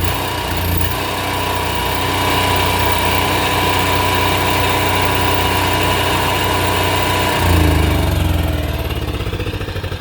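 An RV generator engine idles steadily at close range, a constant mechanical drone with a low hum that shifts slightly in tone near the end.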